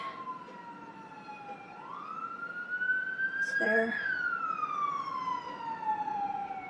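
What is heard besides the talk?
police car siren passing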